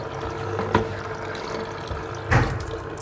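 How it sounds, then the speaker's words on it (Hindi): Water steadily rushes and circulates through a Kangen water machine during a deep-cleaning cycle, a continuous close hiss broken by two brief knocks or splashes. "मशीन के अंदर पानी जा रहा है और वापस वहीं रोटेट होके वहीं आ रहा है"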